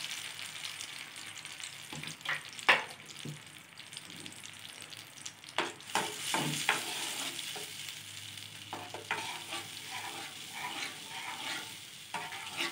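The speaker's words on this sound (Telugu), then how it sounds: "మనం తీసుకున్న చింతపండు గుజ్జుని ఈ విధంగా ఆయిల్లో కొంచెం సేపు ఉడికించుకోవాలి." Tamarind pulp cooking in hot oil in a pan for a garlic pickle, a steady close sizzle broken by scraping stirs and clinks of the spoon, no voices.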